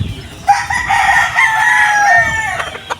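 A gamefowl stag rooster crows once at a game farm, a loud close drawn-out call lasting about two seconds, with faint background clucking and farm ambience.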